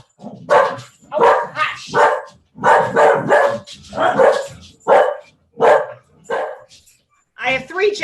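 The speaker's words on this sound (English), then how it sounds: "a lot of barking. Yeah, well, they hear something outside." Three dogs bark in a rapid, loud series of repeated yaps indoors, some overlapping, with a person speaking briefly between the barks.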